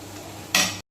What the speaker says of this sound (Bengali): এখন আমি এর মধ্যে দুধটা ঢেলে দেব, দুধটা ঢেলে দিলাম